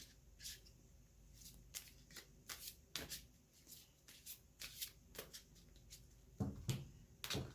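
Gaia oracle cards being shuffled by hand for a reading, with repeated soft riffling and slapping bursts in an irregular rhythm, close and quiet, ending with a louder flurry.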